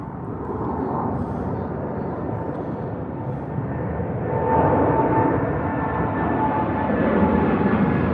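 A Saudia Boeing 787-9 at London Heathrow departing for Jeddah, heard as a steady, loud jet engine roar that swells slightly midway and holds, with no talk over it.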